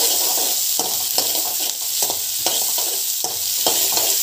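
Fennel seeds fry in a hot pan for paneer butter masala, a loud steady sizzle with stirring scrapes that come back roughly every half second, close by and without speech.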